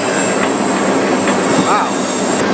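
A freight train rolls through a wooded canyon, a loud, constant rumbling roar heard from aboard, with faint wheel squeal and rattling over the tracks.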